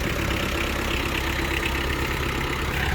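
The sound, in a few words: Kubota X-20 mini tractor engine running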